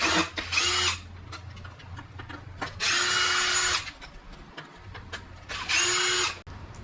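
A power driver backs screws out of an X-Maxx RC car chassis in three separate whirring bursts, each about a second long, with quiet handling clicks and rattles of parts between them, close and clear.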